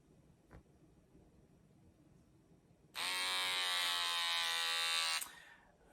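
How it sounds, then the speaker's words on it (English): An electric shaver switches on and buzzes loudly and steadily for about two seconds, close up, then cuts off, with quiet room tone before and after. "if you're not actually watching the video, it's a shaver"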